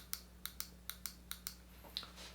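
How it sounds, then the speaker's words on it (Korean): Apple mouse button pressed again and again, giving about nine quiet, crisp clicks at an uneven pace over a low steady hum, with no talking. "이 애플 마우스가 눌리는 게 소리를 들어보세요."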